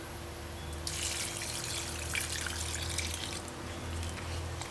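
White rum poured into wine makes a steady, close liquid stream that swells into a brighter splashing pour, runs for a few seconds, and eases off near the end.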